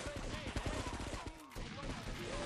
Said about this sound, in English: Like, I'm shooting.